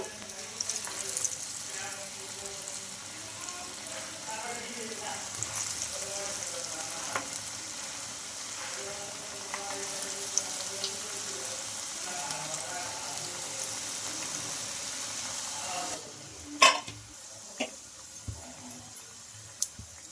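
Alasanda vadas (garelu) fry in hot oil with a steady, close sizzle that carries on for most of the time, followed by a few sharp clinks and utensil knocks near the end.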